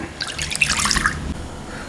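Water is poured from a container into a bowl of pita bread dough mixture of yeast, sugar and milk, a short close splashing trickle about a second long that tapers into quiet.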